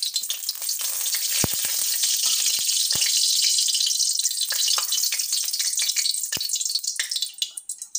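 Oil poured into a hot kadhai bursts into a bright, loud sizzle with sharp pops and spatters, then settles toward the end.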